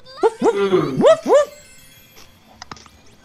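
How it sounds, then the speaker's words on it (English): A dog barks in the Grandia II video game, a quick run of four or five sharp, rising yips close up and loud, followed by a few faint clicks and thin distant sounds. "Dog is barking."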